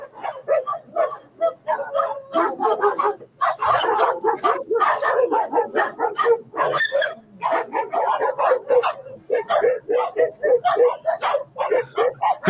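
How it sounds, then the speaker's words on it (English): Several dogs barking in rapid, overlapping bursts, yips and whimpers, steady and fairly close, with a low hum beneath and no speech. "dog just walks out and all the other dogs just scatter"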